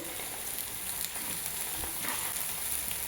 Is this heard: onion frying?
yes